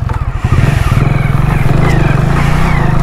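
A Hero Splendor motorcycle engine revs up loudly and close, a quick rising throttle blip settling into a fast, steady thumping drone, heard alone without talk.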